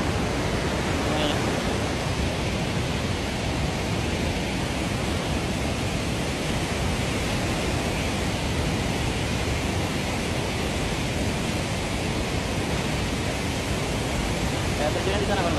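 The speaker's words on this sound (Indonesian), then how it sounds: "Sungainya ini memang deras, gila." A fast, heavy river rushes near a hidden waterfall in the jungle on the Aceh–North Sumatra border, making a loud, steady broadband roar that never lets up for the whole stretch.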